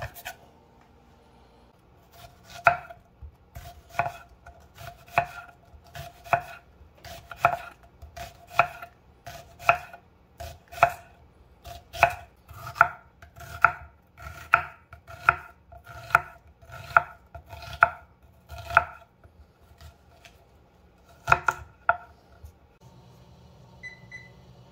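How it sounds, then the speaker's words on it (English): A knife slicing onions on a cutting board, about a quarter inch thick, in steady rhythmic chops that repeat through most of the stretch. They sound close and crisp, then pause near the end. "Just try to cut the whole thing a little less than 1/4 inch. And just cut all the onions like that."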